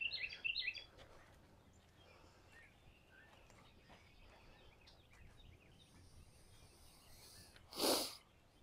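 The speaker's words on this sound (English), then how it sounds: "different types of birds that flock this way" A few high bird chirps sound at the start against quiet outdoor ambience at Cape May Point State Park, New Jersey, followed later by a brief sharp snort or sneeze-like burst.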